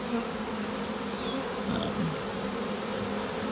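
A honeybee swarm hums inside a swarm box strapped to a tree at shoulder height, a steady, dense drone with a few individual bees zipping past nearby.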